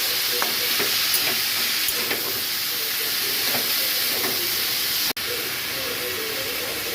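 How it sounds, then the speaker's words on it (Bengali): Boiled banana flower tipped into a pan of frying spices for a Bengali mochar ghonto, a steady loud sizzle and hiss with scraping stirs, continuing evenly apart from one abrupt cut. "মশলা কষানো হয়ে গেছে, এবার সেদ্ধ করে রাখা মোচাগুলো দিয়ে দেবো।"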